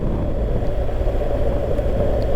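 A motorcycle's engine rumbles steadily under way, a low continuous drone with wind noise while riding, no distinct gear change standing out.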